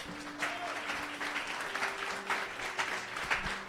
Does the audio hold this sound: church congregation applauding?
yes